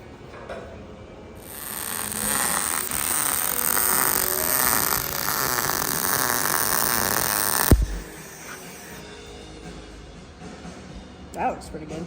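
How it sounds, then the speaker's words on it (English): MIG-style welding of steel legs onto one end of a large wood rack's bottom support, late at night in a shop: a steady loud buzzing crackle running about six seconds, then cutting off, with quieter shop noise after. "now we're welding the first set of legs on one end of the bottom support"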